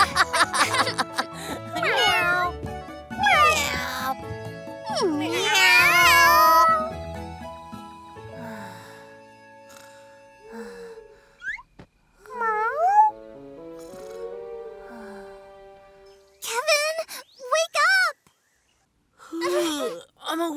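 A cat meows repeatedly, loud and close, with some long drawn-out cries and quieter pauses between bursts; a person also voices imitation meows.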